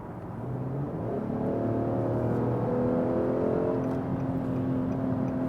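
An Infiniti QX70 with its 3.7-litre naturally aspirated V6 pulls hard in sport mode, the engine note rising steadily and staying in a low gear before shifting up late, a continuous loud drone with no talking.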